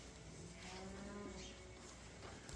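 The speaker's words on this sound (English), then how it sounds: "I know which cow that is." Cow on a farm near the barn lowing once in a drawn-out moo, faint and distant against a steady outdoor background.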